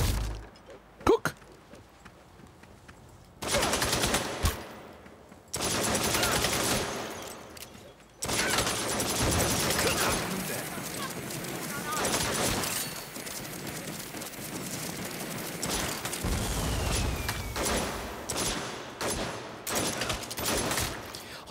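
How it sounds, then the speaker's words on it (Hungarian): Gunfire bursts in the Saints Row game on PC, fired inside a corridor and echoing more than outdoors; loud dense volleys come in several bursts with short gaps, spread over the span with no talk. "Halljátok, hogy a folyosó mennyivel vízhangosabb a lövés?"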